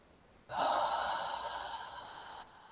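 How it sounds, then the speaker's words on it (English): A single long, deep inhale during guided breathwork, loud and close, lasting about two seconds before trailing off. "So big deep breath."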